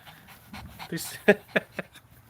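Pet dog panting in short breathy bursts close by, a few quick sharp exhalations over about two seconds, with a person's voice in the background.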